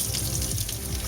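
A butter knife is rinsed under a running kitchen tap at a sink, giving a steady close splash of flowing water throughout the short moment, with no talking.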